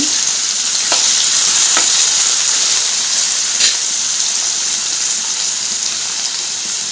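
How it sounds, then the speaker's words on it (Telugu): Ivy gourd, green chillies and onion fry in hot oil for a Telugu dondakaya vepudu, a loud steady sizzle close by, broken by occasional scraping stirs and clinks, no voices. "ఆయిల్ వేడయ్యాక ఆయిల్లో వేసి దూరగా వేయించుకోవాలి"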